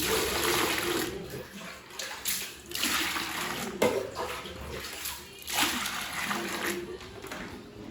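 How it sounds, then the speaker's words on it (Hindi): Toys being dunked one by one into a tub of water with Surf detergent, giving repeated close splashes and sloshing in bursts, with someone talking over parts of it. "बस सर्फ डाला, उसमें पानी डाला और एक एक करके टॉय डुबा डुबा के धोती हूँ।"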